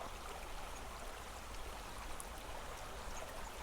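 Steady, soft rushing of flowing water, like a stream murmuring continuously at a moderate distance with no other sounds over it.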